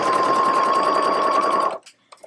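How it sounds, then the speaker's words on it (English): Sewing machine running steadily as it stitches a fabric casing closed on a grocery bag holder, a continuous close whirring hum that stops abruptly, followed by a few faint handling clicks. "we're just going to sew our casing closed"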